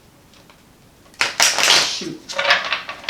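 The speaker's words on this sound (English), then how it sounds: "I'm having trouble shuffling today." Tarot cards being shuffled by hand, a fast papery riffle and flutter that starts abruptly and runs for about two seconds, followed by softer card handling, with a brief spoken exclamation just before it.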